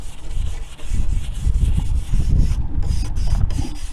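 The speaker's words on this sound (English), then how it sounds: "I'm just using a fine wire brush. Just scuff it up a little bit." A fine wire brush scuffs burnt wood, taking off the burn and raising dust: a continuous close, loud, gritty rubbing rasp with steady back-and-forth strokes and no talking.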